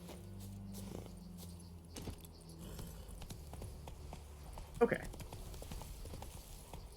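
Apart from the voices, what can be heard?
horse Roach's hooves walking in video game The Witcher 3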